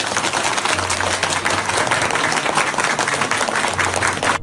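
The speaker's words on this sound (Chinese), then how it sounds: "让我们一起用热烈掌声来欢送华哥" A crowd at a funeral farewell claps steadily and warmly for the departed. The applause is continuous and fairly loud from start to finish.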